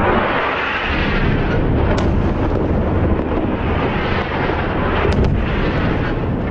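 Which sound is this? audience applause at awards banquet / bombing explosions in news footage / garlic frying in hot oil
bombing explosions in news footage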